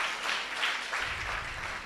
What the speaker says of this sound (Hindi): इसके लिए हम जोर से ताली बजाएंगे, परमेश्वर को महिमा देंगे